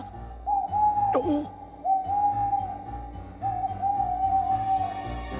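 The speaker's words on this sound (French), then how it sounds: "En réalité, c'est une chouette qui ulule." An owl hoots three times in slow, drawn-out, evenly pitched calls over soft background music in a night scene, with one short spoken exclamation between the first calls.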